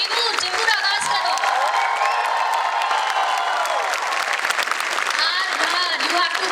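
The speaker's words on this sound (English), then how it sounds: "Come on, can I hear you clap? Loudly, cheer." Audience at a school foundation day event clapping and cheering loudly, a dense sustained roar of applause with whoops and shouting voices layered on top, steady from start to finish.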